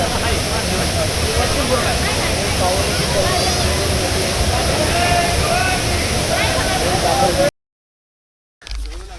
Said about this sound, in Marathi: हे बघा हा वडा किती पाणी जाते